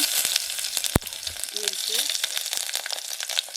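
Cumin tempering crackles and sizzles in hot oil, a steady bubbling hiss with a sharp pop near the start and brief voice sounds partway through.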